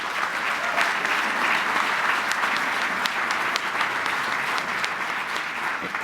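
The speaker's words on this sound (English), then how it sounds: "So please join me in giving them a round of applause." A conference breakfast audience claps in sustained, even applause that fills the room, dense and continuous from start to finish with no voices standing out.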